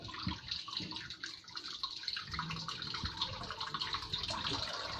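Tap water runs steadily into a sink while dishes are washed, a continuous close splashing flow with small clinks and drips mixed in, and no voices.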